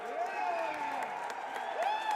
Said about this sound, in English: Plenty of claps